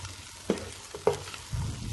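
Mint and coriander stirred into frying chicken biryani with tomatoes, giving a soft background sizzle with two sharp spoon clinks against the pot and a louder rustle of stirring near the end.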